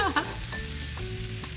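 Shrimp sizzle in a hot pan just after being flipped: a brief clatter of turning at the start, then a steady, close frying hiss that continues without speech.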